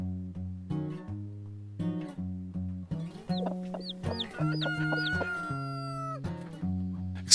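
Chickens cluck in short repeated bursts at a homestead chicken hut, with a rooster's rising calls and crowing in the middle, close and fairly quiet with no talking.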